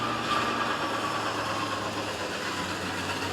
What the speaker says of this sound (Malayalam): ഇതിന്റെ എക്സോസ്റ്റ് നോട്ട്